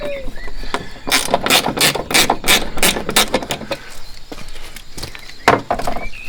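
Ratchet with a star bit loosening screws on a bull bar plate of a Polaris diesel vehicle, giving bursts of sharp rapid clicking in several runs, close and fairly loud, with faint background noise between them.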